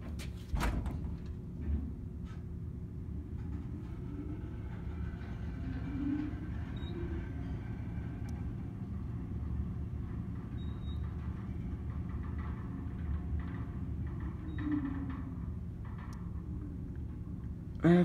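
A 1979 Otis traction elevator motor runs during a descent, a low, steady rumbling hum with faint whirring and soft mechanical clunks near the start and end, heard from inside the car.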